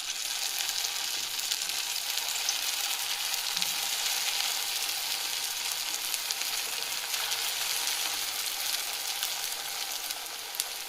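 Grated potato sabudana vada mixed with green chillies frying in hot oil on a gas stove, a steady dense sizzle that holds evenly throughout with no voices.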